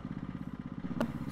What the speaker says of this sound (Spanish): Vamos, moto, tú puedes, cuatrimoto.